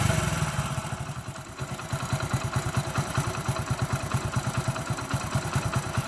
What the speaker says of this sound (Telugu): మనకు బండి రేజ్ చేయకుండా సైలెంట్గా ఉంటే బండి ఎట్లుంటుంది అనేది కూడా చూపిస్తాం మీకు